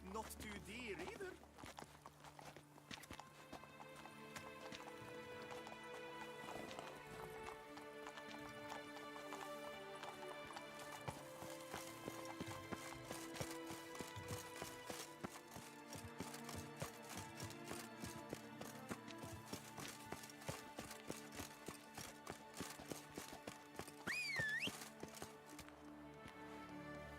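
A horse in The Witcher 3: Blood and Wine trots along with steady, rhythmic hoof clops. Game music plays throughout, and a brief voice is heard near the end.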